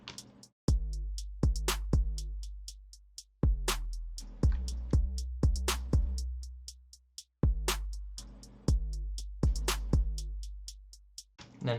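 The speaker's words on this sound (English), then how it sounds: "And all the drums together sound like this." A full trap-style drum beat plays: deep sustained 808 bass, layered snare and clap hits and fast ticking hi-hats in a repeating, loud pattern with brief drops between bars and no voices.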